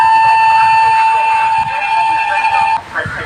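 A train horn in a mobile train video game sounds as one loud, sustained, steady electronic tone lasting nearly three seconds before cutting off abruptly, with someone talking underneath.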